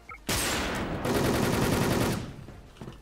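Gunfire in a video game: a dense burst of rapid automatic shots close and loud, a brief pause, then another sustained rattling burst that cuts off, with faint trailing noise after.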